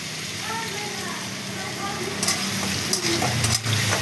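Steamed jackfruit pieces frying in a wok, a steady close sizzle with scraping stirs and a few sharp clatters of the spatula against the pan.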